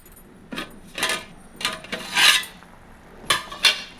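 A metal spoon stirs a village-style dried shrimp and taro curry in a pan, giving a series of loud, close scraping and clinking strokes with short pauses between them.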